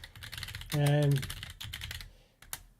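Quick clicks of a computer keyboard being typed on sound close by. A person speaks over the tapping.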